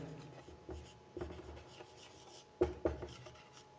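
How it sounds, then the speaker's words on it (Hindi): Marker or chalk scratching on a board during a physics lesson on electromagnetic induction, a few scattered short strokes and taps, faint and close in a quiet room. "यहाँ पर लिख भी देते हैं"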